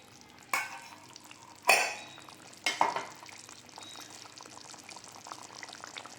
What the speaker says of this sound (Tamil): குழம்பு பார்த்திங்கன்னா நல்லா கொதித்து சுண்டிடுது